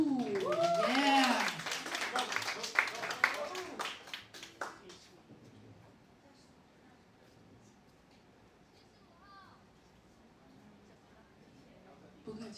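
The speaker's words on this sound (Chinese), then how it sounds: "掌声欢迎哪雾" Audience applause and cheers welcoming the performer Na'u onto a stage, loud for the first four seconds and then fading to a quiet room with faint voices.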